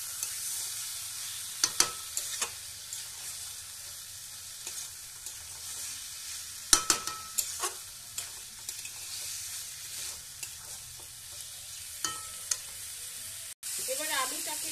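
Liver and stomach frying in a pan for chorchori, a soft steady sizzle with scattered scraping stirs and clinks, fairly quiet and close.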